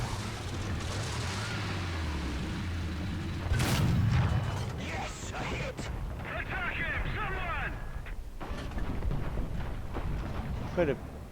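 A tank cannon fires once in a tank battle game featuring the Tiger Ausf B, a loud booming shot over the steady rumble of engine and tracks. A voice talks across parts of the clip.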